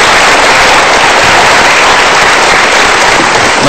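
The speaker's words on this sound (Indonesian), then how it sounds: "Kita berikan tepuk tangan untuk dua orang ini" Applause from an audience as two people are invited up onto a stage, a dense, steady wash of clapping that holds at full loudness throughout with no breaks and no talk over it.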